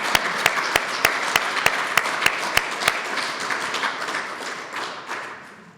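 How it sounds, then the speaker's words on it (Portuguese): Sharp rhythmic clapping rings out at a municipal holiday ceremony in Ílhavo honoring medal recipients, one close clapper striking regular loud beats over a broader crowd applause that gradually fades. "Uma salva de palmas aos nossos condecorados"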